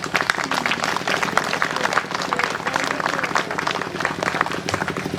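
Applause from a congregation at a thanksgiving Mass honouring religious sisters in Nathpur, Lauwakera, steady, dense clapping filling the whole stretch at moderate loudness with faint crowd murmur beneath.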